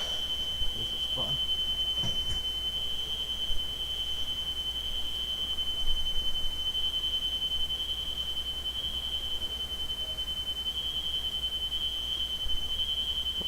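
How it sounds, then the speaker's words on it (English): A fire alarm sounds as a continuous piercing high-pitched tone through the whole stretch at a steady level, over a low background rumble with faint occasional knocks. "until I get this fire alarm shut off here"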